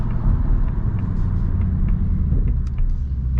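Steady low engine rumble from inside a moving 2024 Ford Mustang GT, a continuous throaty drone with faint ticks, no talking.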